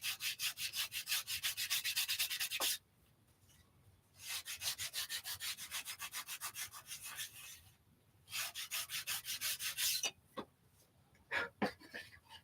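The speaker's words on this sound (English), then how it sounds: "Kind of just sand the joint in so there's no step." Sandpaper rubs a wooden joint smooth in three long bursts of steady, rapid back-and-forth strokes, close and fairly loud, with short quiet gaps and a few scattered rubs near the end.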